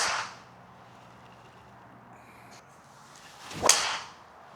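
A golf driver, the TaylorMade Qi4D LS, strikes a ball with a single sharp crack near the end, preceded by a faint soft hiss and a brief earlier transient, otherwise quiet with no talking.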